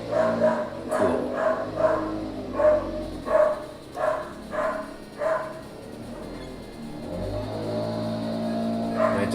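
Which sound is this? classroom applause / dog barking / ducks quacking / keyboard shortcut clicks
dog barking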